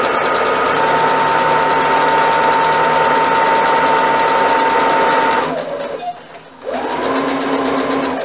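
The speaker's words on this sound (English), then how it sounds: "Okay, and sew all the way to the end." A sewing machine stitches elastic onto a fabric face mask, a loud, close, steady motor whir with rapid needle chatter that runs for several seconds, then stops briefly and starts again.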